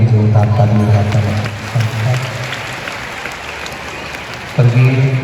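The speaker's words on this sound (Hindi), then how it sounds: "एक बार उनके लिए भी जोरदार ताली बजाकर" Strong applause from a large audience at a religious discourse gathering in India, sustained clapping under a speaker's voice that returns near the end.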